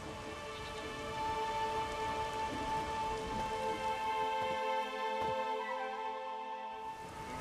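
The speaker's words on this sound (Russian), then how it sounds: "Только зачем стоять под дождем?" Steady rain pattering on surfaces in The Witcher 3: Wild Hunt, an even hiss with droplet detail, fairly close and constant, easing slightly toward the end.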